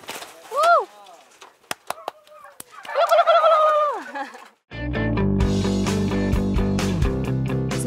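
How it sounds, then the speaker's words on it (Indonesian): A male turkey gobbles in a loud, warbling burst, then calls again more drawn out amid clicks, before music swells in. Recorded in Lampung, Indonesia. "Itu barusan keluar suaranya kalkun."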